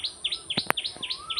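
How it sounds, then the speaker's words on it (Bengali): Outdoors at sunrise near a small rose-apple tree, a bird gives a string of repeated bright, upward-sweeping calls at an even pace, moderately distant, with a couple of brief sharp knocks in between and no talking. "কোকিল ডাকছে দেখো কি সুন্দর"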